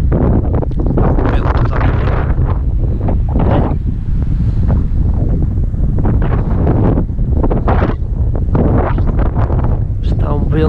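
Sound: strong wind on microphone

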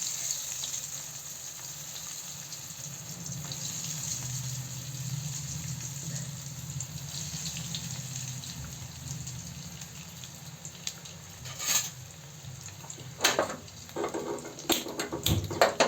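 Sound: paneer popcorn frying in hot oil

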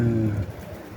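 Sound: Kosovo tumbler pigeon

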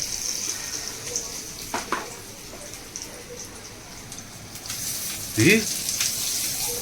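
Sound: garlic frying in masala for tempering

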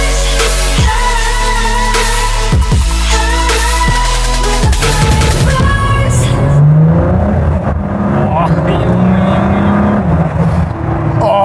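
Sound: Ford GT engine accelerating while driving out

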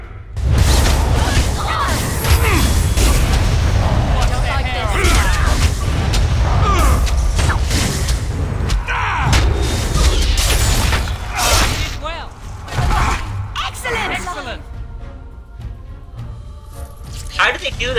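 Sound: explosions in the video game Dragon Age: Origins

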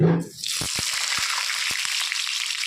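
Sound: cut potato pieces frying in hot oil in a wok

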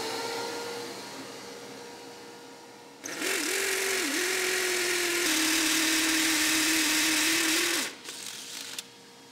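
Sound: vacuum running in workshop

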